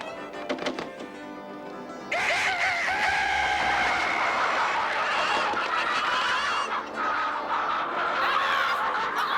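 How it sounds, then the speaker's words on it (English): A rooster crows loudly and at length, a strained, rising call that holds for several seconds after a brief noisy start. "this mischievous bully making so much noise with his cock-a-doodle-doo"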